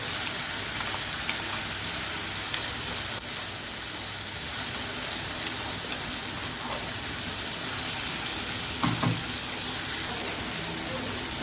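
Masala paste sautés in oil for a Kathiawadi onion chana dal curry, with a continuous dense rain-like hiss of frying and a few faint stirring knocks.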